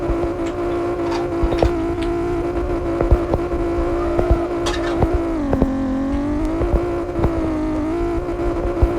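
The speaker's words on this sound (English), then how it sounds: "I can actually drift around this pool better than the actual the 240SX" A Nissan Z drifts around a pool in a Southwest Florida Roblox driving game, its engine holding a steady, loud drone that dips and swells in pitch through the slide, with no talking.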